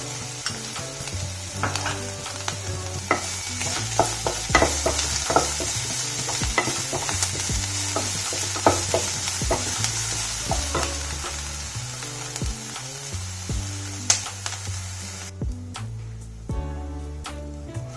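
Chopped carrot roasting in a pan for idli sandwiches, a steady oily sizzle with repeated scraping and stirring taps of a spoon against the pan, close and continuous.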